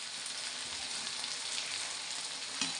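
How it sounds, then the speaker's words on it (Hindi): Oil spattering and sizzling in a frying pan with tomatoes and potato bhujia for a Ramadan sehri breakfast, a steady close hiss with small pops throughout and no talking. "छींटे मार रहा ऑयल।"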